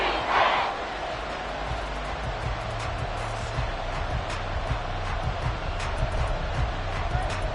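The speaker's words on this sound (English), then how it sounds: "The Arrowhead crowd in full roar." Football stadium crowd at Arrowhead during a Chiefs game, a broad sustained roar of thousands of fans that holds steady and loud throughout, with a commentator talking over it.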